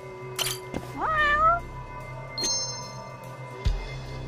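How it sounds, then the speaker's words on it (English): A cat in the video game Judgment gives one clear, rising and falling meow, with a few soft chimes and game effects around it in an otherwise quiet scene. "Oh, another cat."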